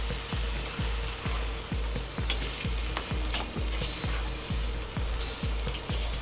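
Chicken fajitas sizzle steadily on a Weber kettle grill fitted with a FireDial baffle plate, with a continuous frying hiss and regular low thumps recurring about twice per second, close and fairly loud.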